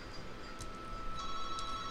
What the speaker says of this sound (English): you have to excuse that phone ringing.